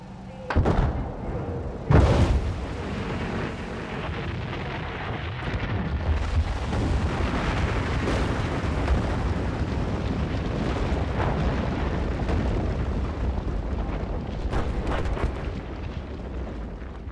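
Explosions destroying the dam in Battlefield 4: a couple of sharp, heavy blasts open, followed by a long, loud, sustained rumbling roar of destruction that fills the rest of the scene.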